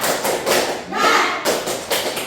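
A group in a child-protection training session performs a rhythmic cheer clap, sounding as a few sharp, loud unison bursts of clapping separated by short pauses, close in a room.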